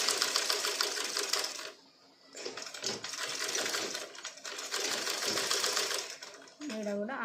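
A sewing machine stitches a half-inch seam on the back piece of a child's garment, running in close, rapid, rhythmic bursts with short pauses while someone talks over it.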